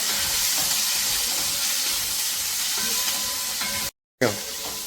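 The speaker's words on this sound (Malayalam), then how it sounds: "ഉപ്പിട്ട് കൊടുക്കാം കേട്ടോ എന്നിട്ട് നന്നായിട്ടൊന്ന് വഴകട്ടെ" Whole, unchopped ingredients salted in a pan for a festive blackened mutton dish sizzle and fry in a steady, close crackle that cuts out for a moment near the end, then resumes.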